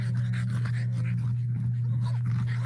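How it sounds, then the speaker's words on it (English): Dogs outdoors pant and whimper softly, close by, over a steady low hum that runs through the whole stretch. "got my barking dogs out here"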